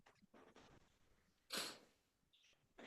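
A single sharp sneeze bursts out near the middle, close and fairly loud, following quiet murmured speech and soft handling noises, with another short burst at the end.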